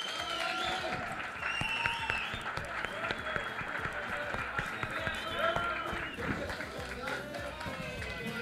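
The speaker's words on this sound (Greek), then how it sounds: "Ένα χειροκρότημα στο Βαγγέλη τον Τζάλεζα" Applause from a group gathered at a taverna during a motorcycle outing, steady clapping over several seconds mixed with chatter and voices talking throughout.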